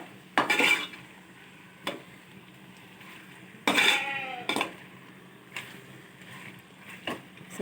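A spoon stirs chicken masala in a pan, giving scattered scraping and clinking strokes against the metal, with a few louder bursts between quieter stretches and no talking.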